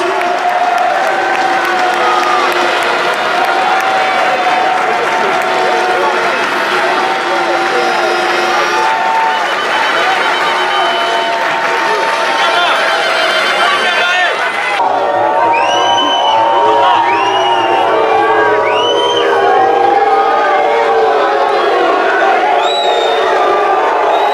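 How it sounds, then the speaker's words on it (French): A large crowd at a Coupe de France football match applauds and cheers steadily throughout, with whoops and shouts rising over sustained clapping. "je vous demande encore une tonne d'applaudissements"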